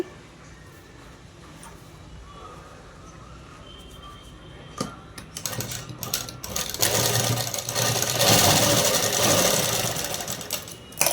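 A sewing machine stitching elastic into cloth for a midi dress, a quiet steady whir that swells into a louder, faster run of stitching toward the end.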